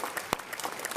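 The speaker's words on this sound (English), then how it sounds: "And one more round of applause for our sponsors." An audience at a GED graduation ceremony applauds briefly with light, scattered clapping at moderate volume.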